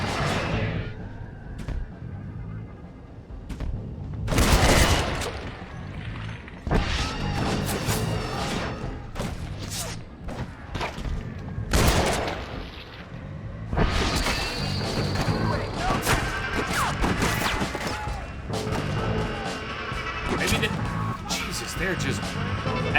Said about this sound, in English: they're focusing more and more of their gunfire on John